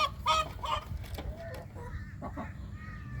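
Bantam chickens cluck in a coop with a few soft, scattered clucks over quiet background noise.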